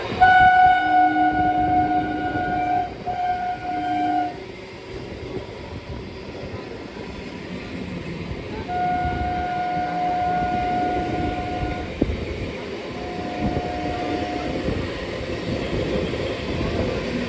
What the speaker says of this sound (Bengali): train number three triple one two Katwa Sealdah গ্যারোপিং local দেখো ওভারটেক করছে আমাদের